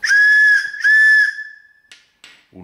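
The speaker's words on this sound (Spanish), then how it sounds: "el silbato, como veis aquí, pues pita" A 3D-printed plastic whistle blown loudly and close in two long shrill bursts with a brief break between them, trailing off into faint clicks and handling noise.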